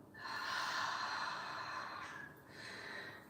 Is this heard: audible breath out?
yes